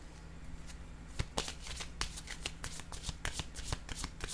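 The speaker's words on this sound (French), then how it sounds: "Je vais piger une autre carte sur questionnement." A deck of tarot-style question cards is shuffled, giving a steady run of crisp riffling flicks and sharp snaps up close before a card is drawn, with no talking.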